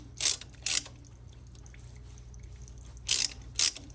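A pipe cutter is tightened and turned around a pipe during a water heater replacement, giving two short pairs of bright metallic ratcheting scrapes, one pair near the start and one near the end, with quiet gaps between.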